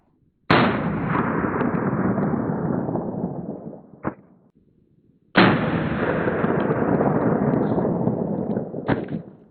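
Two loud close-range gunshots from a 5.7 mm firearm with 40-grain Federal ammunition striking body armor, each a sharp blast followed by a long decaying echo, with a smaller crack between them.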